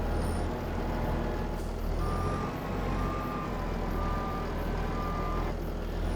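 A truck backing a trailer in Farming Simulator 25, its reversing alarm beeping steadily over a constant loud diesel engine drone, with no voices.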